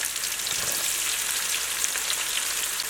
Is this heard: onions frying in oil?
yes